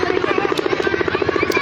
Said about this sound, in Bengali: এই সে হেলিকপ্টারের শব্দ আমরা কিন্তু অলরেডি পাচ্ছি, চলে আসছে